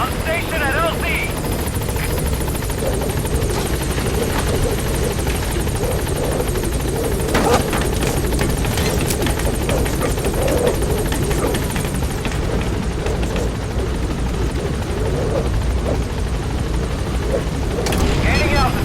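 Pequod helicopter arriving at a landing zone in the video game Metal Gear Solid 5: The Phantom Pain, a loud, continuous rotor thrum and engine roar that fills the whole stretch, with radio voices speaking over it.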